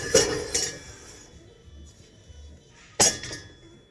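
A sturdy spatula clanks and scrapes against a cooking pot while chopping and stirring cabbage-roll filling, a few sharp metallic clinks separated by quiet pauses.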